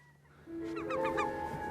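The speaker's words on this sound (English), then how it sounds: "Those seagulls mean business." Seagulls calling in the wilds of British Columbia or Yukon, a run of sharp repeated cries, fairly close, over quiet background noise.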